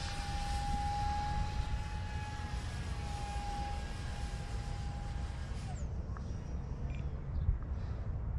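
A 3D printed 50mm EDF J10 RC jet plane flies overhead doing low, slow flat spins, its fan whine holding a steady pitch and then falling away mid-clip, with outdoor wind noise throughout.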